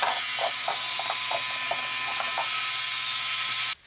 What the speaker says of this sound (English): I get a perfect round hole with the Dremel.